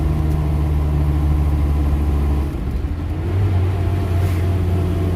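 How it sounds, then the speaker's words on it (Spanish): A camper van's engine labors uphill in second gear, a loud, close, sustained drone that dips briefly, then settles into a steady higher-pitched strain. "En la cámara no parece tanto, pero lo van a sentir en el ruido del motor."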